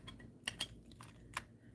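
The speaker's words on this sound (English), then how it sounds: "I'm going to cut the wire now" Wire snipped for a beaded necklace: a few sharp, isolated clicks and snaps from small cutters, close and fairly quiet over a low room hum, with no talking.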